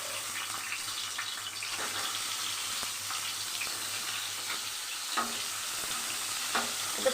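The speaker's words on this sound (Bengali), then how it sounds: "এটা ফুল ফ্লেমে ভাজতে হবে।" Pointed gourd (potol) pieces fry in hot oil on full flame for niramish doi potol; a steady, close sizzle with occasional stirring scrapes and small clatters, no talk.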